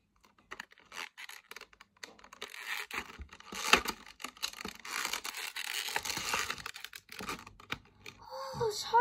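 Plastic packaging is torn and crinkled off a Sylvanian Families hot air balloon toy, irregular close crackles, rips and scratches coming in uneven bursts with short pauses between.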